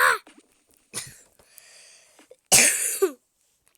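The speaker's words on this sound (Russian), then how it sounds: "Извиняюсь за кашель." A person coughs several times in short rough bursts, one at the start, another near one second and a louder, harsher fit around two and a half seconds, close to the microphone with quiet gaps between.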